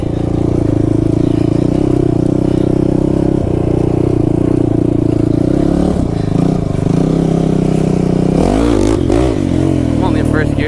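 Kawasaki KFX 450R quad engine revving hard and steady in first gear on a track during a wheelie attempt, loud and close, with a brief clattering surge near the end and a voice speaking over it.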